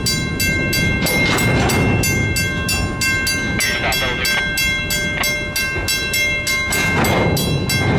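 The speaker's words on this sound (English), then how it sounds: "Okay, now they're backing back across the road." CN locomotives 4908 and 4902 back across a road crossing at a cement plant in Princeton, Ontario, with a loud, close engine rumble, rhythmic rail clatter and a ringing crossing bell throughout.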